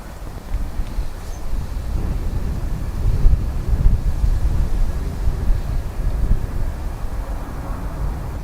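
Steady wind roars across an open microphone at Dublin Airport with a straight 10-knot headwind, a broad low rumble with gusts that swell slightly midway and never drop away.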